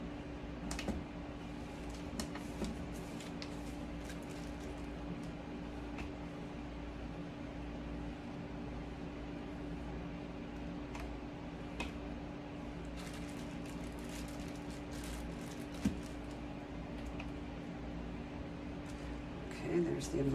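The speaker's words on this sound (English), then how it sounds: "Sorry for the noise in the background." An indoor air conditioner running with a steady hum and broadband hiss, humming on continuously at a low, even level with faint clicks and small knocks scattered throughout.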